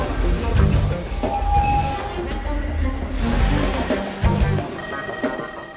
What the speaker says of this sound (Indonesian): tepatnya di sebuah stasiun kereta api Keleti, terlihat Lovdah yang baru turun dari kereta